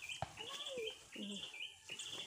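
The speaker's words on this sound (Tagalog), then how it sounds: "Naririnig nyo pati yung huni ng mga ibong bundok" Mountain birds chirp and tweet in a rural hillside setting, short bright calls repeating faintly with a background murmur that may include a distant voice.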